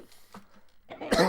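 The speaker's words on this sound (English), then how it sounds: "I'm just dying over here of like coughing." A burst of harsh coughing up close, quiet at first and then loud and raspy, with a couple of hacking coughs running together at the end.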